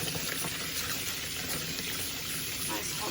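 Hot soapy water runs steadily into a sink to wash a juicer, making a continuous close rushing and splashing sound.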